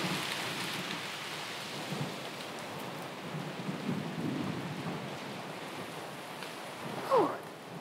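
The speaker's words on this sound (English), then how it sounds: "Oh, it's raining a lot." Heavy rain pours steadily in a stormy scene from the video game A Plague Tale: Requiem, with low thunder rumbling through the downpour and a brief louder swell near the end.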